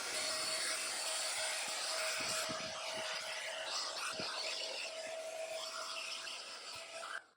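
A USB rechargeable handheld car vacuum with a brush attachment cleans dried road salt from a car surface, giving a steady, loud motor whine throughout with faint scratchy brushing underneath and a drop-off as it powers down at the end.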